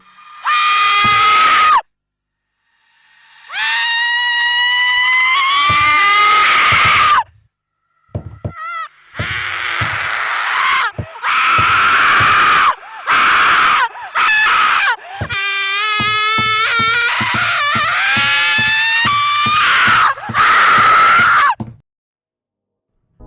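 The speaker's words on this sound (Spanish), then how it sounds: "Gritos aterradores se escuchan" Loud, piercing screams and wails in the horror video game Sad Satan come in repeated bursts, some shrill and wavering, separated by brief silences.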